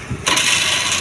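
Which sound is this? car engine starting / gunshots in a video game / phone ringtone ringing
car engine starting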